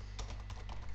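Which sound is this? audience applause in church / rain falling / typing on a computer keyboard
typing on a computer keyboard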